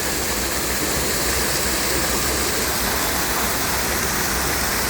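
Clean river water from the hills rushes past a summer swimming spot in a steady, loud, continuous roar, with no pauses and no voices.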